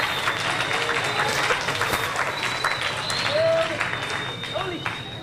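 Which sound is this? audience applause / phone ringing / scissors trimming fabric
audience applause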